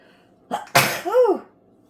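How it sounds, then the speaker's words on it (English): A single loud, close sneeze from a woman: a short intake, a sharp explosive burst, then a brief voiced trailing sound, with no talking. "Uh-oh, I'm gonna sneeze."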